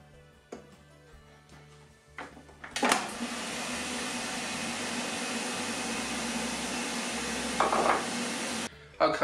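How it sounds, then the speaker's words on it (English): Whisked eggs poured into a Tefal Actifry air fryer over melted butter set off a steady, loud hiss that runs unbroken for several seconds, preceded by a few clinks and ending abruptly. "Then add 3 whole eggs that I've whisked."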